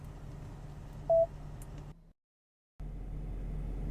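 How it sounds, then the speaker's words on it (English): A Range Rover voice recognition system starts dialing a phone call with one short electronic beep over low cabin hum. The audio then cuts to a moment of silence before the hum returns. "Dialing."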